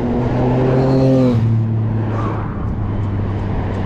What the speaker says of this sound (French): il y a pas mal de circulation là